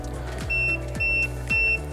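A motorized window blind beeps three times, spaced evenly about half a second apart, over a low steady motor hum, with no talking.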